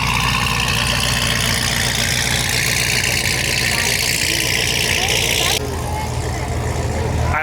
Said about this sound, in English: The C7 ZR1, this thing sounds nuts.